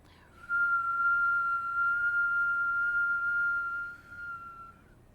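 A breathing exercise with a slow inhale drawn through pursed lips, making one steady high whistle that holds evenly for about three and a half seconds, close and clear, then fades with a softer trailing breath.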